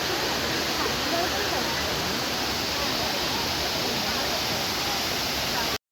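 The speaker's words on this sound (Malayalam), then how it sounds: "ഫൈനലി നമ്മളിതാ നമ്മുടെ വെള്ളച്ചാട്ടത്തിൻ്റെ അടുത്തെത്തിയിരിക്കുകയാണ് കേട്ടോ." Alakapuri waterfall in Kannur roars as a steady, dense rush of falling water, loud and close, unbroken throughout until it cuts off at the end.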